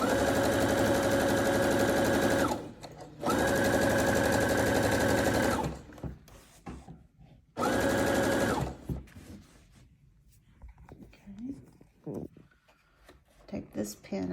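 A sewing machine stitches pillow fabric in two sustained, close, even runs of rapid whirring, separated by short pauses, then stops; fabric handling and soft talking follow.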